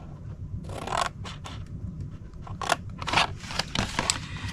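Scissors cut paper along score lines while making a Stampin' Up treat box, with close, crisp snipping and slicing strokes in quick irregular bursts.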